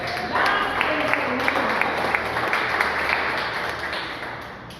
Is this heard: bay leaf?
no